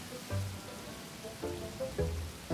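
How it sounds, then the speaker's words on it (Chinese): Rain falls steadily, soft and fairly faint, with scattered drips and patters over a continuous wash. "淋雨的感觉怎么样啊？"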